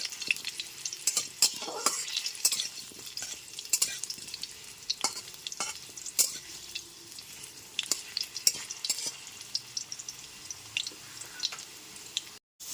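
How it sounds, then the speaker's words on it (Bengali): Potato pieces fry in a pan over a medium gas flame, giving a steady close sizzle broken by repeated sharp scrapes and clicks of stirring, with no voices. "এরপর এবার কেটে রাখা আলুর টুকরোগুলো দিয়ে দিচ্ছি গ্যাসের ফ্লেমটা মিডিয়ামে রেখে আলুগুলোকে ভেজে নেব"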